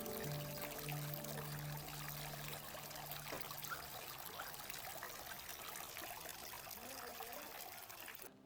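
Water pours and trickles steadily, a continuous splashing flow that stays loud and close throughout, with a faint low hum beneath it early on.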